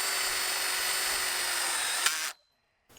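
A power driver sinks a tek screw into a greenhouse base board, a steady high whine for about two seconds, then a brief click, winding down and stopping, followed by silence and a faint noise at the end.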